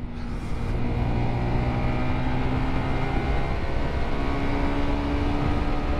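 A 2022 Sinnis GPX 125 motorcycle engine drones steadily at close range as the bike is flung through corners, a continuous buzzing note with slight pitch shifts and constant wind rush, without any talk.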